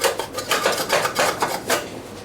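A sheet metal tin cover on an Allis Chalmers tractor is pried and worked loose, giving close, rhythmic metallic scrapes and rattling clanks in repeated bursts with no talk.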